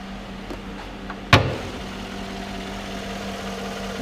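A 2014 Chevrolet Silverado's 5.3 liter V8 idles with a steady, smooth low hum and a faint constant drone, broken once by a single short sharp knock near the start.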